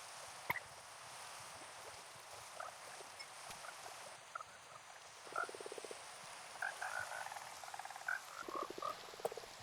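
Frogs croaking in Minecraft, scattered soft croaks repeating irregularly over a faint steady background, some closer and louder bursts toward the end, with no talk.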